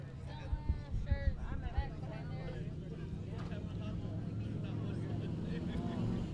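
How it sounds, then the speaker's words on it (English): Limited modified race cars at I-37 Speedway roar down the chute, a steady, swelling engine drone that builds over six seconds beneath an announcer talking through the opening. "I hear some big motors coming down the chute."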